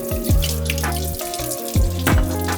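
Tap water runs to rinse a hydration bottle, a close, splashy flow that surges and changes pitch as the bottle fills and is shaken, with brief drips between.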